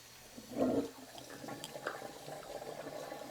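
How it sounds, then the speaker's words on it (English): Water running and sloshing as washed collard greens are rinsed in a kitchen sink, a splashy burst followed by a softer continuous trickle, close and with no voices. "I'm just kind of rinsing them off again to let this water out"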